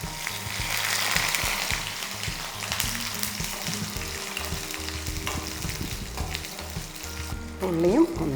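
Chopped red shallots and dried chillies fry in hot oil in a pan for a coconut-free chutney, with a steady close sizzle and repeated soft scrapes of stirring throughout.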